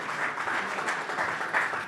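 Brief burst of audience applause at a pitch event for a presenter named Peter, steady moderately loud clapping from a crowd lasting under two seconds.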